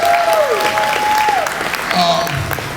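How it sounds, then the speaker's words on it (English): A crowd at a Houston Media Source 40th anniversary community celebration breaks into a short burst of applause, with voices and a whistle-like tone rising over the clapping. "You give me a round of applause."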